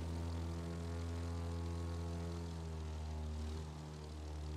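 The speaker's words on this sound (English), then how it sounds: "We are now in the plane with the new cool bomber art." Propeller bomber plane in the video game The Crew 2, a steady droning engine hum held throughout, fairly faint and alone.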